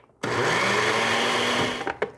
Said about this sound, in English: I have about 1/3 cup of these dried orange peels in the blender, and I'm just going to blend them up